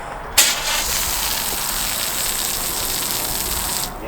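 A 2023 Minnie RV's outside spray port hose bursts on and sprays antifreeze being pushed through the lines during winterization, a sudden onset followed by a steady close hiss of spray that cuts off near the end.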